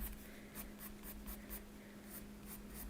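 A pencil colors in a coloring book, a soft, steady scratching of graphite on paper with quick rhythmic strokes, faint and close, under a low constant hum.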